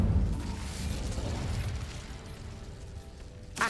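An Incendio fire spell cast in Hogwarts Legacy erupts with a loud, low whooshing burst at the start, then rumbles and fades over a few seconds before a sharp crackle at the end.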